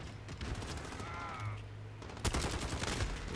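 Rapid gunfire bursts from a first-person shooter search-and-destroy match crackle at moderate level, with a sharper volley near the end over low game background noise.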